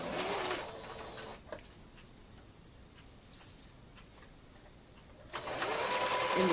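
A sewing machine stitches polka dot fashion fabric at a 3 mm stitch length. Short bursts of fast, even whirring at the start and end frame a quieter pause with faint handling.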